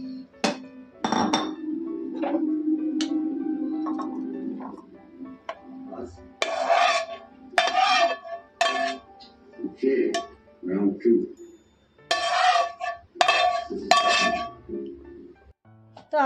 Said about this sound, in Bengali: লেমন চিকেন একদম রেডি। এবার একটা বাটিতে ঢেলে নেব।